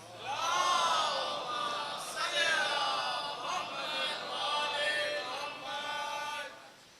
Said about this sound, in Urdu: بار دیگر نعرے صلوات.